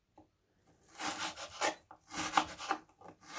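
Close, scraping knife cuts through partly frozen chicken fillet as it is diced into small cubes on a board, several uneven strokes in quick succession with brief gaps, without any voices.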